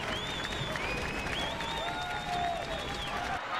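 Stadium crowd at a Canada rugby sevens match applauding a try, a steady broad roar of clapping and cheering that holds for several seconds before cutting off, with a commentator's voice faintly over it.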